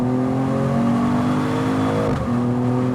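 A Mercedes-AMG E53 hybrid coupé in Sport Plus mode accelerates hard, its engine note rising in a loud, continuous climb with one brief gear shift dip before pulling again, heard close with no talk.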